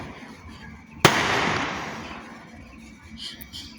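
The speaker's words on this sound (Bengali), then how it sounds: "কত বাজি ফাটাচ্ছে বাবা।" A firecracker goes off at a wedding celebration, a single sharp crack followed by a long crackling, hissing decay, somewhat distant over background murmur.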